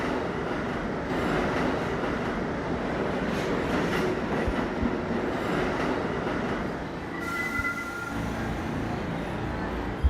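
A New York subway D Express train runs steadily along the tracks near the yard at Kingsbridge Road, with continuous loud rumble, rattling wheels and a brief high squeal near the end, no voices.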